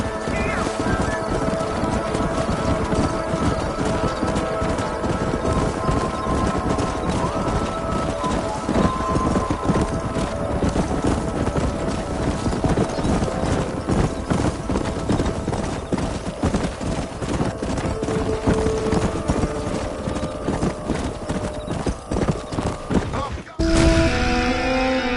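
Horses gallop in the Red Dead Redemption video game, a dense, continuous clip-clop of many hooves pounding close by, with an occasional whinny, before the hoofbeats break off abruptly near the end.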